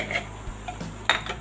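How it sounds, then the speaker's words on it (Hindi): A spoon stirs dosa filling in a pan, making quiet, scattered clinks and scrapes of metal on metal, with one sharper knock near the end. "और इसको अच्छे से मिक्स कर लेंगे।"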